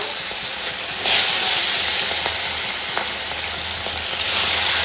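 Fish frying in a pan, a loud, steady hissing sizzle that swells around a second in and again near the end, with a few faint clicks and no speech.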